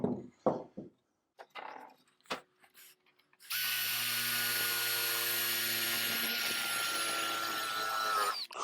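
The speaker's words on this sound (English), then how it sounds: "as you can see from the drilling, it's quite hard to get through" A power drill countersinks a hole in wood, hitting a knot after a few short starts and clicks, then runs in one loud, sustained whine for several seconds.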